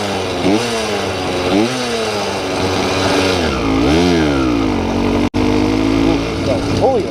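A tuned Honda Dio two-stroke scooter engine fitted with a Dio reed, revving close and loud in repeated rising and falling bursts, with one abrupt momentary cutout near the end.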